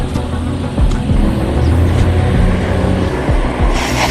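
A van in a mobile horror game drives off, its engine rumbling loudly and steadily for several seconds with no talk.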